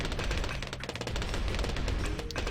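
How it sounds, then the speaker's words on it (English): Dartling gun towers fire in the Bloons TD Battles video game, making dense, rapid, continuous machine-gun-like rattling that stays loud and close throughout, with no talking. "I'm going to have to pop a few more Dartling guns in here, though."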